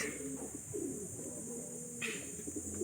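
Young homing pigeons coo softly in a low, rolling murmur at a loft, with a faint rustle in the background and no wingbeats clearly standing out.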